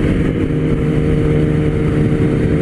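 A Kawasaki Ninja ZX-10R motorcycle accelerating gives a continuous, fairly loud engine roar mixed with road and wind noise, heard alone and up close.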